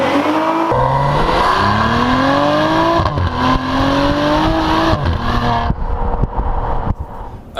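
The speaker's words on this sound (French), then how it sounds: "au moment où vous passez 3000 tours, la voiture d'un coup, elle s'énerve, vous ne savez pas pourquoi, et elle fait un bruit" A 430 hp Maserati Levante's engine revs hard past 3000 rpm, a loud, close, rising growl that climbs in repeated pulls before easing off near the end.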